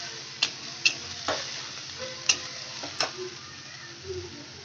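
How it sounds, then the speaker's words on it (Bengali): Rohu fish curry sautés with onion paste in a pan, a constant sizzle broken by several sharp spattering pops and scrapes of stirring, close and fairly loud, with no talking. "পেঁয়াজ বাটা দিয়ে কষানোর সময় এদিক ওদিক প্রচুর পরিমাণে ছেটকাতে থাকে"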